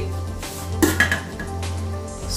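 A metal lid is set back onto a cooking pot of sinigang with rice-wash broth and tomatoes, giving a couple of close clinks and a short rattle over a low kitchen hum.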